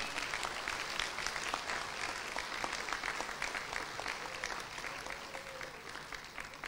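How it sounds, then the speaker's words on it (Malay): A crowd at a DAP special party congress in Malaysia breaks into sustained clapping for Sabah and Sarawak delegates, a dense, fairly distant wash of applause lasting several seconds without speech. "Mari semua kita bagi satu tepukan kepada wakil-wakil kita daripada Sabah dan Sarawak"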